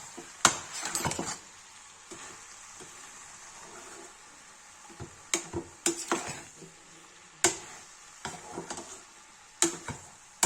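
A spoon scrapes and clanks against a pan while green beans and potato curry are stirred, in short irregular bursts between quieter moments.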